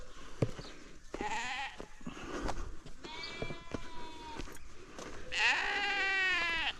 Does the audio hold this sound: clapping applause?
no